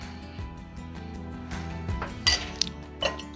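Eggs and olive oil whisked together in a bowl for an egg wash, heard as soft tapping and scraping of a utensil against the bowl that ends in a few sharper clinks near the close, quiet and nearby with no talking.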